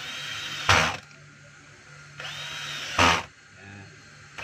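A power tool tightens a screw on a DeWalt D25133 rotary hammer in two short, loud bursts about two seconds apart, separated by quieter handling noise.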